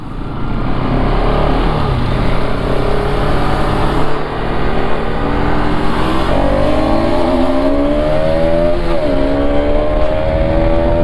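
Bajaj Pulsar RS motorcycles accelerate hard in a street drag race, loud close engine roar climbing through rising pitch sweeps with gear changes, continuous throughout.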